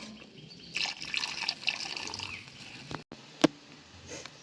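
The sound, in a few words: water poured into chicken gravy in pan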